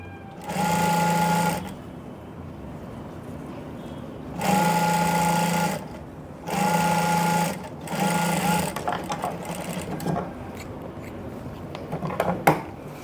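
Sewing machine stitching the waistband of a fish-cut skirt: four bursts of steady whirring stitching, each one to two seconds long, separated by pauses, close and clear with faint handling sounds in between.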